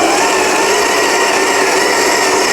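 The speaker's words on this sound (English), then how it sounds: "So I'm just going to grind." An electric coffee grinder grinds beans for a double-shot espresso, a loud, close, continuous high whirring drone that holds steady throughout.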